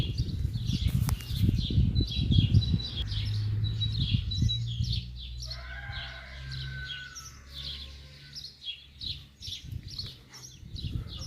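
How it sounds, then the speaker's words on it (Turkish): Birds chirping in the countryside, scattered high tweets and short calls repeating throughout over a low rumble of wind or handling noise, fairly near and without speech. "Şu kuşların cıvıltılarını duyuyor musunuz?"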